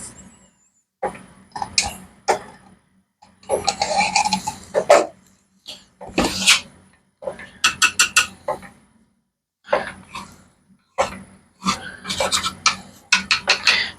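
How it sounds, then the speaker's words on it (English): Coated material is scraped out onto a board in repeated rasping strokes, short bursts of gritty scraping separated by brief pauses, close and fairly loud. "So I am going to scrape this out onto my board."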